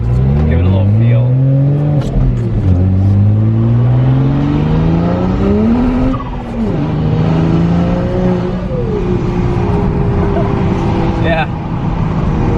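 A warmed-up car with a newly fitted stage 3 turbo on a base map accelerates hard on a wet road, its engine note rising through several gears with shifts between them, loud and close from inside the cabin.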